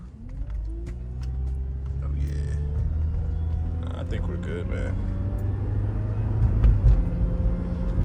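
A 2009 Honda Accord with a newly replaced front axle drives around the block, its engine humming low and steady inside the cabin while someone talks over it.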